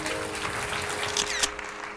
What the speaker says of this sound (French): On pourrait les applaudir, qui sont parmi nous.